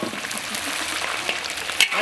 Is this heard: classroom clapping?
no